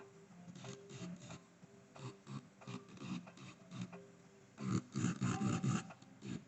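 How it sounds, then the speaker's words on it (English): A low-speed electric nail drill with a sanding band files acrylic nails in short repeated bursts, a faint buzzing rasp that stops and starts, growing louder and denser toward the end, with no talking. "try your best not to keep the drill bit in one spot"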